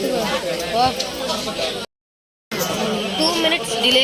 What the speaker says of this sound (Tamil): ட்ரெயின் ஏறியாச்சு. செம க்ரௌடு.